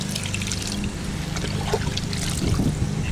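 Water poured onto Portland cement to mix a paint-like slurry makes a steady close trickling and splashing pour, fairly loud and continuous, with no speech.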